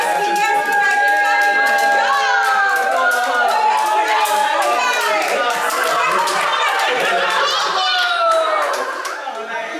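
Hands clap together at a child's fifth birthday party, a dense, loud patter mixed with excited children's voices and adult chatter that carries on throughout.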